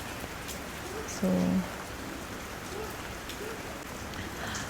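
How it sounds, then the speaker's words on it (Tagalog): Steady rain falling in Bali, a dense continuous patter on surfaces, with a brief spoken word over it. "Ulan jud siya nga ulan."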